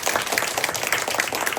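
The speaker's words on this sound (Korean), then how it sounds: "우리 다시 한번 하나님께 영광의 박수 돌리도록 하겠습니다" A congregation applauds during a Sunday worship service at a Korean church in Ulsan, a dense, steady wash of clapping filling the room with no talk over it.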